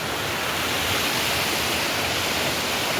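Water pours steadily from a water catchment in the jungle, a loud, continuous, broadband rushing without a break.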